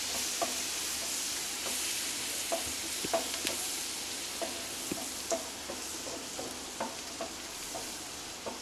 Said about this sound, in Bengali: দিয়ে দিচ্ছি চেরা কাঁচা লঙ্কা আর কোচানো পেঁয়াজ